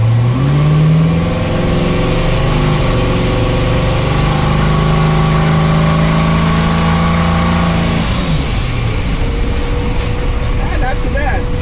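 Loud, close engine of a turbocharged vehicle accelerating hard in first gear under boost, its steady droning pitch climbing and then easing off, with a voice speaking over it.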